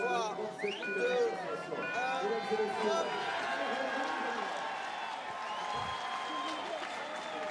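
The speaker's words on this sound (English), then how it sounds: "The crowd living the moment here." Roadside crowd cheering and clapping at the start of a Tour de France individual time trial, stage 13 to La Caverne du Pont d'Arc in 2016, as a Colombian rider sets off. Loud, steady cheers and applause with shouting and a commentator talking over them.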